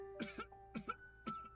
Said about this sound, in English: Salvi chokes on air, which quickly devolves into heaving coughs.